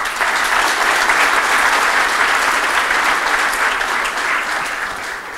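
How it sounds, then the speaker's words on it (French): A large audience at a business school speech applauds loudly and continuously, a thick sustained roar of many hands clapping that tapers slightly near the end. "je vous prie, s'il vous plaît, de les applaudir très très fort"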